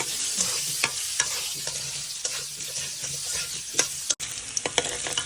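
Steady sizzling of potatoes frying in hot oil, with occasional scrapes and clinks of a spatula stirring the pan.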